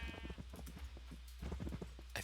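Sheep bleating in a video game, several quick overlapping bleats close by over a low steady hum, with faint clip-clop hoof sounds mixed in.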